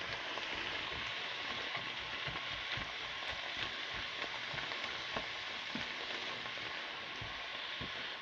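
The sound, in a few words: onions frying in a pan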